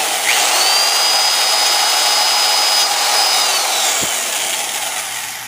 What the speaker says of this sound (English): I've got an appropriate size drill bit.